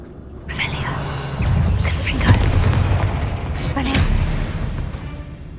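In Hogwarts Legacy, a Confringo spell bursts with a deep booming blast that rolls into crackling, rumbling debris for several seconds.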